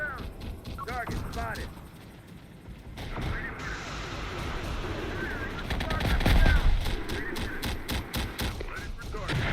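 Gunfire from a Bradley fighting vehicle in the Terminator Dark Fate Defiance strategy game, rapid repeated shots and heavy bursts throughout, with a voice talking over the battle.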